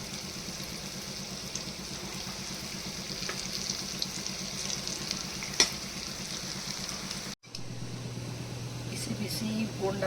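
Bonda fritters drop into hot oil and fry with a steady, loud sizzle. The bubbling shifts tone partway through as more batter goes in, and someone talks softly in the background.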